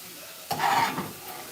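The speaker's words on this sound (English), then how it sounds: "next we are going to saute our onions" Onions and chopped vegetables hit a hot pan for cornbread stuffing and begin to sauté, a sudden loud sizzle that swells for about half a second, then settles into a softer frying hiss.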